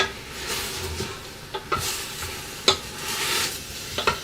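Chunks of celery, tomato and carrot dropped into a pot of Algerian chorba, sizzling and hissing steadily while a few soft thumps and stirring scrapes sound up close.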